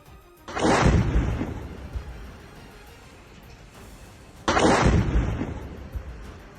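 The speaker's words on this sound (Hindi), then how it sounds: "वहां जोरदार धमाका हुआ" Two loud, deep explosions from an Israeli strike in Lebanon, a few seconds apart, each a sudden broadband blast with a rumbling tail that fades into low background noise.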